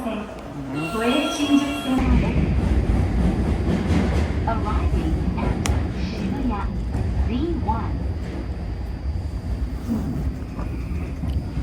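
Train at a station in Japan, with a steady rumbling rail roar and rattling carriages heard close by throughout, while people talk over it.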